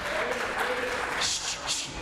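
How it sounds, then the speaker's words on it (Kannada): Audience clapping at a stage program during a Deepavali festival event, a brief dense burst of applause with a voice talking over it. "ಅವ್ರಿಗೊಂದು ಚಪ್ಪಾಳೆ"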